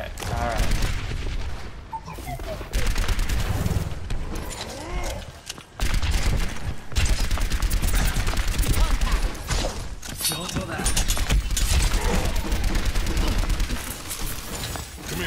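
Rapid bursts of gunfire in the shooter game Overwatch, loud and nearly continuous, with a short lull near six seconds, layered with game effects and occasional voices.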